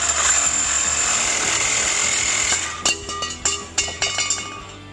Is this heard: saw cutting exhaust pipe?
yes